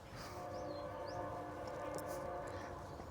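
A passing train rumbles steadily in the background with a sustained, droning tone throughout, at a moderate distance, with no voices over it.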